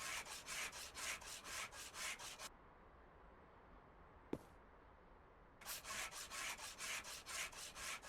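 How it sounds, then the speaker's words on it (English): Sandpaper rubs across a car part in Car Dealer Simulator: rhythmic back-and-forth scraping strokes, close and even, stopping for a quiet gap marked by a single click before the strokes resume. "Just remember, it's only sandpaper, so you have to do it slow."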